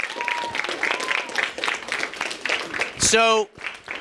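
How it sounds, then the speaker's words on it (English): Applause from an audience at a middle school food drive event, rising briefly amid a speaker's voice before fading. "Let's give them a big round of applause for being here."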